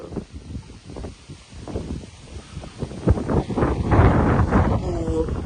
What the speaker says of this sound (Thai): ลมแรงมากทุกคน